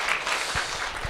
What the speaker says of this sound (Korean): 박수 한번 보내면 어떨까 싶습니다.